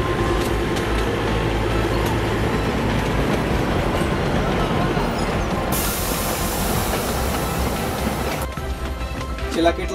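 The Billimora–Waghai narrow gauge train running on its tracks, a continuous loud rumble with rhythmic wheel clatter and hiss, heard close and alone with no talk.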